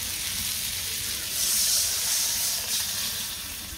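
Water poured into a pan of frying potato curry, giving a steady hissing sizzle that swells midway and then eases, close and continuous with no talk.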